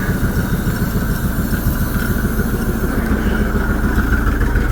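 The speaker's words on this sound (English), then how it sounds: "She's idling and running off of the alternative tank. Doesn't sound half bad for sitting up for so long." A 1978 Chevy C30 wrecker engine idles with a steady, low rumbling throb, loud and close, running evenly the whole time with no voices.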